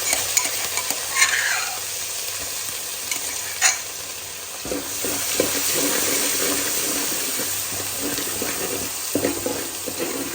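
Whole spices roasting in a pan give a continuous soft sizzle, broken by a few scrapes and stirs, and grow slightly busier partway through.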